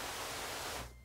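A Voder speech synthesizer replica's hiss source gives a steady, broadband noise at close range for about a second before cutting off abruptly.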